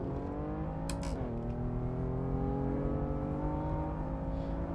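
A BMW M4 engine in Assetto Corsa, racing at Mosport, eases off the throttle. Its whining harmonic tone drops in pitch after a brief burst, then holds a quieter, steady drone.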